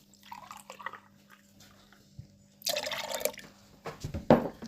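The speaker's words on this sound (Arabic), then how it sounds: "غادي ندير كاس ونص ديال الحليب" Milk pours from a container into a bowl or cup in two short splashing bursts with a few drips between, close and fairly quiet against a faint background hum.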